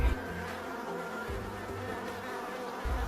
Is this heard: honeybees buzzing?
yes